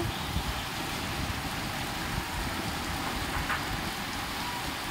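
Rain falling outside a building during a power cut, a steady dense hiss of drops on surfaces at moderate distance, even throughout with no voices.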